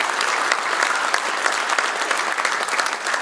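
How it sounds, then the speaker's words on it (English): A banquet audience breaks into dense, sustained applause, many hands clapping steadily and loudly throughout. "Please give them another big round of applause before we get started."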